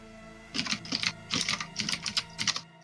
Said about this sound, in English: Why do you type so loud